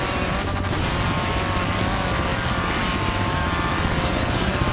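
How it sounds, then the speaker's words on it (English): A helicopter in the racing game Forza Horizon 3 whirs loudly and steadily, its rotor wash blending with a constant car engine drone throughout. "I think that's the helicopter."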